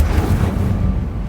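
An Incendio fire spell in Hogwarts Legacy roars as a loud, dense, rumbling burst of flame that continues throughout, gradually thinning toward the end.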